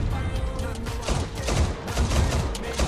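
Rapid bursts of rifle gunfire in the Arma 3 video game crackle loudly and overlap in a dense fusillade over a few seconds.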